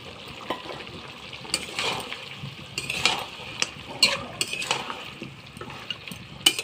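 Duck meat cooked down with chili paste fries in a pot while a spoon stirs and scrapes, irregular clinks and sizzling bursts close by without talk.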